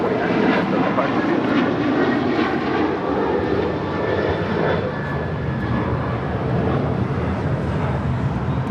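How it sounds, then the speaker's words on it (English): A Delta Airlines Boeing 737-900ER jet takes off at LAX for Nashville, a loud continuous engine roar, close and steady, swelling and easing slightly across the takeoff. "This is Delta Airlines 449 taking off to Nashville on a 737-900 ER"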